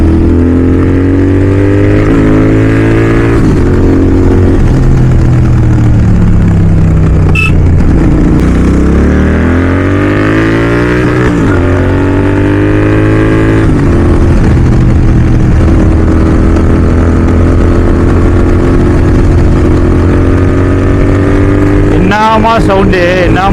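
A Royal Enfield GT650 twin fitted with a Red Rooster exhaust revs loudly and up close, rising and falling through repeated throttle blips with a deep, throaty drone throughout.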